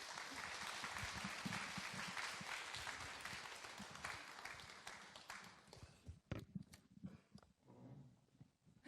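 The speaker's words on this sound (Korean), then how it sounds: "자리로 모시겠습니다. 박수 한번 보내주세요" Audience applause at a Korean traditional music center talk event, a steady wash of clapping for the first six seconds that thins into scattered claps and faint voices near the end.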